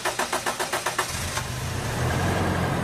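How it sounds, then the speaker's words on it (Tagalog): A Toyota Innova engine running on LPG, low on gas and misfiring slightly, cranks with rapid rhythmic starter pulses for about a second, then catches and settles into a steady, rumbling idle. "start ko na itong makina, medyo mag-hard start yan kasi wala pang gas"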